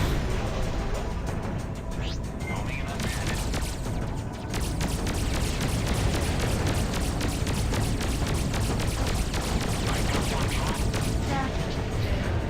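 Space combat in the game Freelancer: dense, continuous rapid gunfire with mechanical clatter and rumbling blasts, steady and loud throughout, with a brief dip near the start.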